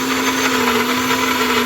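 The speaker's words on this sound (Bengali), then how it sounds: "তো এবার মশলাটা পুরো ঢেলে নেওয়া হলো মিক্সারে। এবার এটাকে দিয়ে দেবো মিক্সের জন্য।" A mixer grinder whirs steadily as it blends a wet spice paste with a little added water for butter chicken, loud, close and continuous throughout with a constant motor hum.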